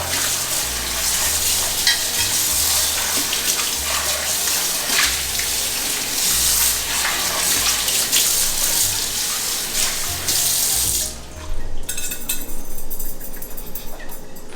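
Running tap water rinses out a baking dish, a loud, close, steady splashing rush that cuts off near the end, leaving faint clatter.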